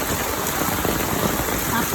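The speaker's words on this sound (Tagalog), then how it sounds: "Super lakas ng ulan." Heavy morning rain pours steadily in windy weather, a dense, loud hiss of drops on surfaces with no pauses.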